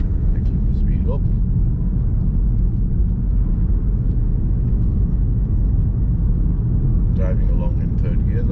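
A car on a beginner's driving lesson cruises along in third gear, heard as a steady low engine and road rumble from inside the cabin that stays even throughout.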